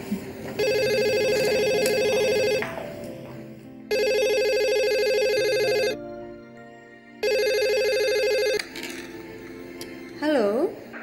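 A telephone rings in repeated electronic bursts, each lasting about two seconds with short gaps between them, loud and close with no one speaking over it.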